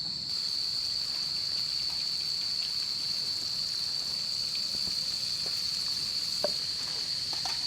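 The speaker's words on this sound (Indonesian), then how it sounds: "Wis panas bola minyake, langsung ae ayame dipelungno." Chicken frying in hot oil: a steady, even sizzle with a bright hiss, dotted with occasional small pops and crackles, continuous throughout and without talk.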